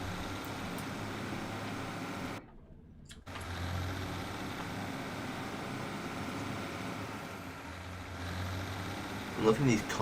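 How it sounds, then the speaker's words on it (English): Diesel train engine in Train Simulator 2021 on The Highlander route from Mallaig to Glasgow Queen Street, droning steadily, dropping out abruptly for under a second as the gearbox slips, then surging back and running on with loud close rumble. "I'm loving these constant gearbox slips."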